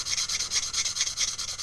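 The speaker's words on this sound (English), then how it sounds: "I've got my sanding sticks ready." A sanding stick rubs back and forth over wood filler on a 1:24 scale Occre AEC model bus, making a close, soft, steady rasping in quick, even strokes with no voices.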